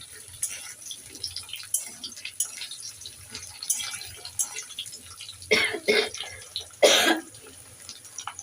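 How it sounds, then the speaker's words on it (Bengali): A person coughs several times in a kitchen while cooking an egg dish, with harsher bursts near the end over faint dripping water and clatter. "প্রচুর কাশছি"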